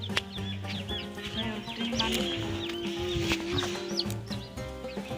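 A chick chirps in a steady stream of high, rising peeps among clucking fowl, heard close over a continuous low background hum.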